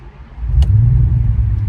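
An Audi V10 engine cranks and catches, then settles into a loud, deep, steady rumble close by, with a short high click near the start.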